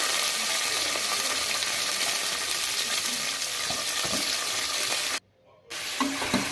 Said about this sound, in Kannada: ಬೀನ್ಸು ಮತ್ತು ಆಲೂಗೆಡ್ಡೆ ಅದನ್ನು ಹಾಕ್ಕೊಳ್ಳಿ